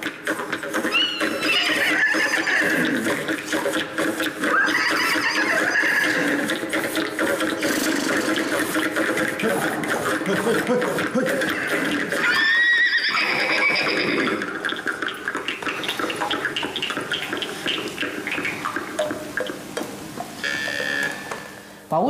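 A Yakut khomus jaw harp imitates a horse's hoofbeats and neighing, a steady twanging rhythm with a rising whinny-like glide midway, played close and continuous.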